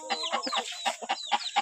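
Native and broiler chickens at a poultry market cluck and squawk in quick repeated bursts, close and fairly loud, with no talking.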